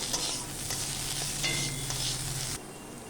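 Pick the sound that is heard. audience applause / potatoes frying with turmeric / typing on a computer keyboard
potatoes frying with turmeric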